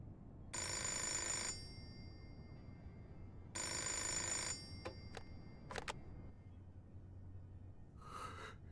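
A telephone rings in the video game Fahrenheit: Indigo Prophecy Remastered, two long electronic bell rings about three seconds apart, loud and clear, followed by a few faint clicks and a soft breathy sound near the end.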